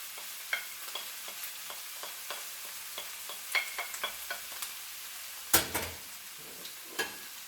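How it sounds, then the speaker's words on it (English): Spices and green onion are stirred in a frying pan with Maggi and salt, a soft sizzle carrying a string of irregular clicks and scrapes from the utensil, with one louder clatter midway. "And we keep stirring."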